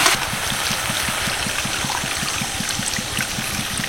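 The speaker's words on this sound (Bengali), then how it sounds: "এবার আমি এর মধ্যে দিয়ে দেবো জল।" Water poured steadily into a pan of cooked-down spiced curry masala for a dal and potato vegetarian dish, a continuous close splashing pour over a faint regular low thumping in the background.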